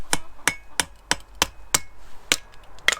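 Nine sharp metallic hammer strikes on a kindling splitter at a steady, unhurried pace, each ringing briefly, close by with no talking.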